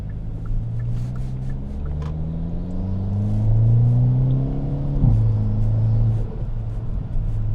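A Hyundai Elantra N in N mode with its active exhaust, heard from inside the cabin as a low rumbling engine that rises in pitch through the gears, with a quick shift and a steady drone afterward.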